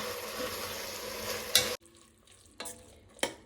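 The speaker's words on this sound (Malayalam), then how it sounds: "ഇതെല്ലാം ഒന്ന് ഇളക്കി യോജിപ്പിക്കാം." Chicken biryani ingredients stirred together in a pot: a steady sizzle for the first second and a half, then quieter stretches broken by a few sharp scraping strokes of the spoon, with no voices.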